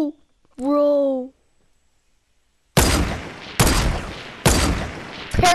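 A brief spoken voice, then after a silence three loud, sharp gunshot bursts from a video game shootout, each ringing out and decaying before the next, close and harsh.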